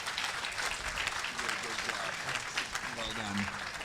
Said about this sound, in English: How about a round of applause for this young man